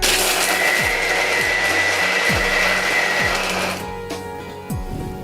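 An electric mixer-grinder runs continuously and loudly, finely grinding sugar and biscuits for an eggless cake, with a steady high whir and a rhythmic low thumping; the motor drops in pitch and tone near the end.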